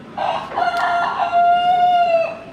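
A rooster crows once, close and loud. It is a single long cock-a-doodle-doo with a drawn-out, sustained final note and no voices over it.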